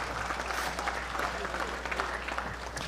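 A banquet audience at a sports hall of fame induction applauds, a steady wash of clapping from many hands filling the room at even strength throughout.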